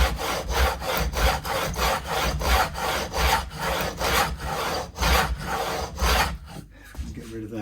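A file rasps rhythmically across the fret ends of a Strat-style guitar neck during a re-fret, beveling the edges. About a dozen even back-and-forth strokes come up close, then fade to quiet.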